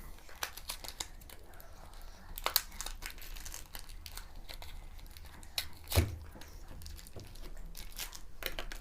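A surprise toy box package is torn and opened by hand, with repeated crinkling and ripping of plastic and cardboard, brisk irregular bursts close to the listener and a thump partway through.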